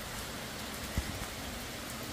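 Heavy early-morning rain falls as a steady dense hiss of drops, with one brief dull knock partway through and no talk.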